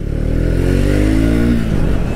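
A 2023 Triumph Speed 400 motorcycle engine pulls hard for an overtake on an Indian road, a loud, steady drone whose pitch climbs smoothly under acceleration and then eases off, with no talk.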